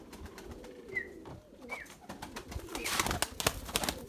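Several pigeons coo repeatedly inside a loft, rolling throaty calls overlapping with brief higher notes and rustling wing movement, fairly close and steady throughout.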